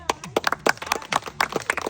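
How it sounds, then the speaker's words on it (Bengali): A crowd at an entertainment spin game claps briskly, a quick run of sharp, close hand claps in an uneven rhythm, with no talking. "হাততালি হবে দর্শক, হাততালি।"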